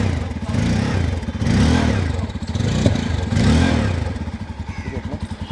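A Bajaj Pulsar 250 motorcycle idles in neutral through a small stock exhaust, then gets blipped with a few throttle revs that rise and fall in a steady rhythm, close and fairly loud.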